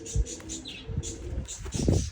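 Pigeons cooing and chirping close by from a flock kept for racing, soft repeated coos and calls spread through the moment with brief low thumps and quiet rustling.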